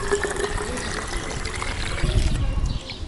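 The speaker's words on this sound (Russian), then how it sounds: "Я себя наливаю воду." Water poured into a cup, a steady light trickle running throughout with a faint voice in the background.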